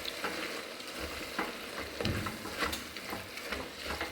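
Ginger garlic paste sizzles and fries in a pan for a Tyson chicken biryani while a spoon stirs it, giving a steady crackling hiss with soft scraping strokes.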